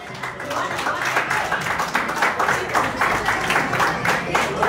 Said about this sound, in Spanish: vamos a recibir con las palmas para Cristian Jeremy Llanos